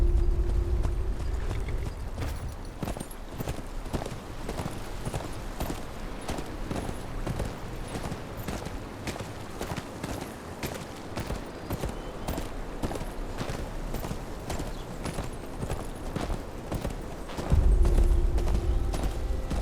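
Horse hooves clip-clop at a steady walking rhythm while riding in the Game of Thrones: Kingsroad video game. The regular, fairly close hoofbeats run throughout, over a low rumble that swells at the start and near the end.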